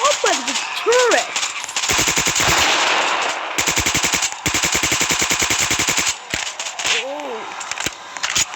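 A turret machine gun in the Zombie Uprising video game fires long, loud, rapid bursts with brief gaps between them, and a voice speaks briefly at the start and near the end.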